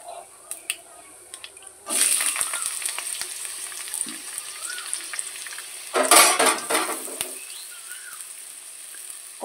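Black cumin seeds hit hot mustard oil in a village kitchen pan, then potatoes go in with a louder burst of frying and sizzling, two surges of crackling hiss over steady background frying.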